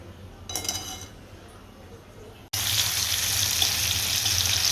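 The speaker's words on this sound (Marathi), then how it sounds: "बटाटे ना चांगले फ्राय करून घेते" Potatoes frying in a pan for sabudana khichdi, a steady loud sizzle that starts abruptly after a quieter stretch with faint clinks, then holds evenly and close.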